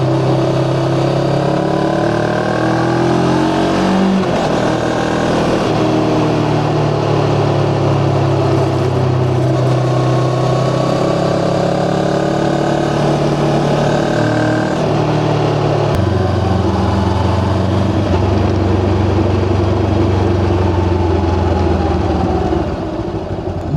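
A VOGE 525DSX adventure motorcycle engine heard while riding, a loud, continuous close drone with pitch rising and falling as the rider shifts and accelerates over a long stretch.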